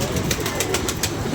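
A pigeon coos in soft repeated pulses, close by and moderately quiet, against a faint outdoor background.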